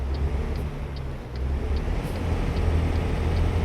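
A truck's Jake brake in American Truck Simulator gives a steady, deep engine drone that rumbles continuously and swells slightly toward the end, with no voices over it.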